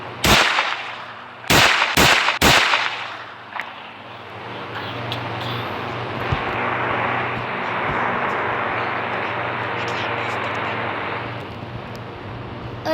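Pistol shots in a video game: a few sharp, loud cracks, one early and then three in quick succession, followed by a steady engine-like drone under faint clicks.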